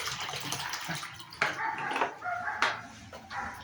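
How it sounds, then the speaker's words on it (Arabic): Cold water splashes and pours into a bowl with irregular sloshing bursts, fairly close, no talking. "معايا ميه ساقعه وبوله. ادي الميه الساقعه اهي حطيتها"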